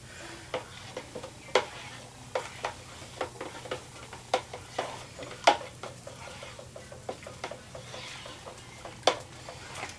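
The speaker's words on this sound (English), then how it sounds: "stir it all together." Irregular soft clinks and taps of a utensil against a container as melted soap is stirred into water, near and quiet, with no talking.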